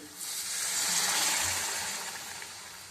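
A loud, steady hiss rises as hot water hits frying egg-curry paste in a hot pan, swelling then slowly fading over a couple of seconds.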